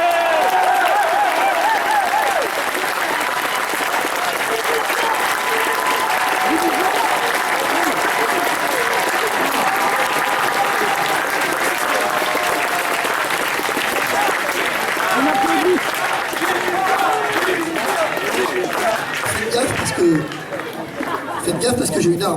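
Sustained applause and crowd chatter fill a congress hall of the Les Patriotes party, steady and loud throughout before thinning near the end.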